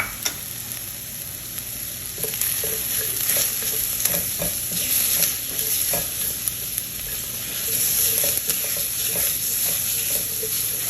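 Garlic and butter sizzle steadily in a Le Creuset mussel pot alongside onions, a constant frying hiss with intermittent scraping stirs, no voices.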